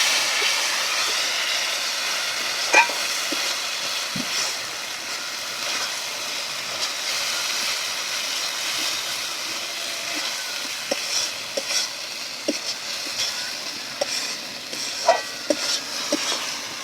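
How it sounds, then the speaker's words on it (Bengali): Spice paste for a thin village-style chicken curry with country chicken fries in a pan with a splash of water, a steady close sizzle broken by scraping stirs and occasional clinks, with no talking. "মশলা আমার ভালোভাবে কষানো হয়ে গেছে।"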